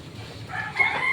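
Backyard chickens, including a mother hen, clucking close by, with a rooster-like crow rising toward the end, steady and fairly loud with no talking.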